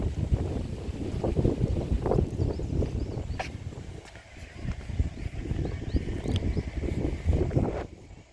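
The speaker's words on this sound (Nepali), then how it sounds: "कस्तो शीतल हावा चलेछ" Cool wind gusts blow at a countryside cottage, buffeting the microphone in uneven rumbling bursts that swell and ease, with faint higher rustling behind.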